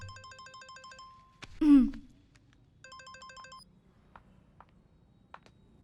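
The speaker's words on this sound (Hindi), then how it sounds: "फोन।" A phone rings twice in a short electronic pattern of repeated beeping tones, each burst about a second long, with a sharp clatter and some faint clicks between and after, no talking.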